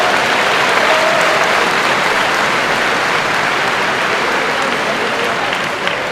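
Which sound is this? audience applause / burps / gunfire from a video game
audience applause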